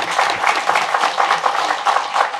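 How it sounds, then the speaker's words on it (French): An audience at a Congolese tourism week ceremony in Lualaba applauds, dense clapping from many hands that swells and pulses steadily throughout, close and loud with no voices. "Applaudissez"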